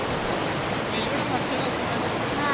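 Steady, dense rush of water from the Ghatkesar waterfall, swollen after rain, filling the whole stretch with a loud broadband roar and no breaks.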